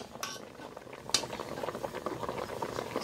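Yam boiling in a covered pot, a soft continuous bubbling and patter with a few faint clinks of a lid or utensil, quiet and close.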